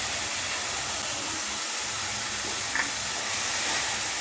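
Beans and carrot sizzling in a pan for masala pasta, a steady even hiss of frying that runs without pause under faint kitchen background, with no talking.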